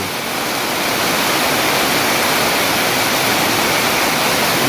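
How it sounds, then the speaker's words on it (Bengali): Heavy monsoon-style rain that has just begun pours down in a dense, steady roar that fills the whole clip without a break. "এই সবেমাত্র শুরু হলো বৃষ্টি"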